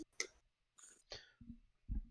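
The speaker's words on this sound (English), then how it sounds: "Somebody coughed in the background." A person coughs a few times somewhere in the background, short faint bursts with quiet gaps between them and no other sound.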